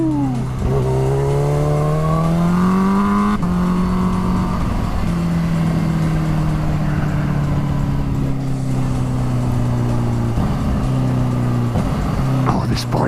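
Kawasaki H2 supercharged sport motorcycle under way, engine revving up through gears with rising pitch steps then settling into a loud steady drone with wind noise, close to the rider, with a voice talking over it at times.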